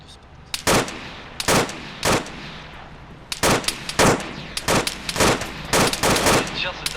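Bursts of automatic gunfire crackle in a military video game patrol in Takistan, loud and close, coming in repeated short volleys with brief pauses between them and no voices over them.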